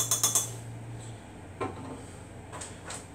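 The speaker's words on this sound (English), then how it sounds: "Give this a quick stir up." A spoon clinks and scrapes against a bowl while stirring a stuffing mixture seasoned with Worcestershire sauce: a quick burst of rapid taps, then sparse knocks and scrapes over a faint background hum.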